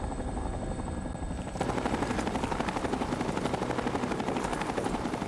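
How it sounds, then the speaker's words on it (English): Vertibird aircraft rotor in the video game Fallout 3, heard from inside the craft: a steady, loud chopping thrum that swells after the first second and then continues evenly with no talk over it. "We're inside a vertibird."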